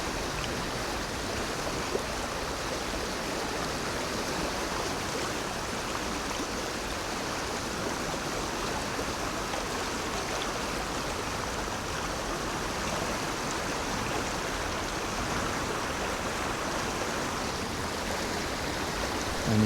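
A fast-flowing Welsh river rushes in a steady, loud broadband roar of turbulent water close by, continuous and unbroken throughout with no voices.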